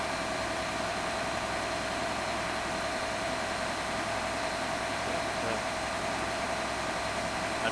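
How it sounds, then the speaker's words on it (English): A John Deere 8370R tractor engine runs steadily after a fan drive fire repair. The hum is low and even with a constant hiss over it, and there is no talk. "I'm throttling it up, making sure everything sounds good"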